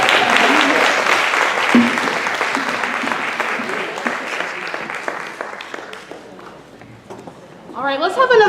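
An audience at a Mother's Day for Peace event applauds its speakers, loud dense clapping that gradually thins and fades before a voice speaks at the close.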